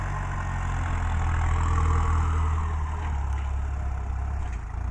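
A Kubota MU5702 tractor engine idles nearby with a steady, even low rumble that holds throughout, with no talk over it.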